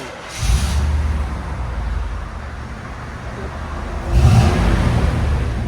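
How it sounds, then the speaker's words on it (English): A 1997 Chevy Silverado 1500 with a 5.7L V8 and true dual exhaust through Flowmaster Super 50 Series big block mufflers gives a deep, rumbling low note, swelling in two revs around one second and four seconds. "Chevy Silverado with a big block 50 series muffler"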